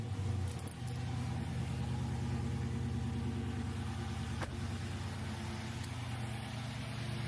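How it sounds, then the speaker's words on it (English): A car engine turns over and settles into a steady, even idle close by, a continuous low hum with no voices over it. "Let's go ahead and grab the keys and start it right up."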